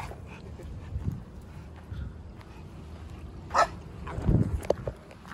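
A dog makes a few scattered short barks and yips at moderate distance, set against low background noise and faint voices.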